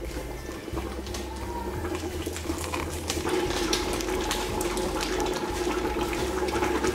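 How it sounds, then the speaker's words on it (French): Water poured into a pot of oxtail stew while cooking, a loud, steady close splashing and gurgling that runs continuously for about seven seconds with no talking. "je vais rajouter encore un peu de l'eau"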